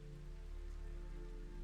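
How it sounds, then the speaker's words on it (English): Steady rain falling and pattering on a surface outdoors at night, a quiet, even hiss with a low hum underneath and no voices. "I'm out there with the rain hitting my face"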